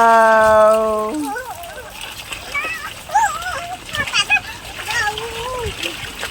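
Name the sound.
child splashing in water while swimming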